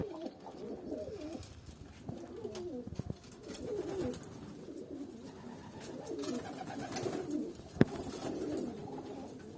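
A male pigeon coos softly in a series of low, throaty calls, slightly distant, with faint background noise and a brief sharp click near the end.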